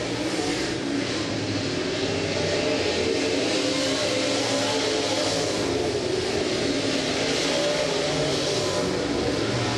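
Race cars roaring around a track in a qualifying heat, a dense, steady wall of engine noise from several cars at once, loud and unbroken from start to end, with no clear individual passes.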